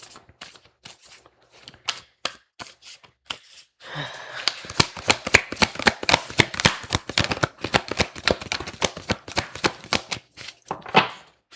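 Tarot cards are shuffled in sparse, separate flicks at first, then a longer stretch of quick, crisp riffling and tapping. The sound is close, with no talking.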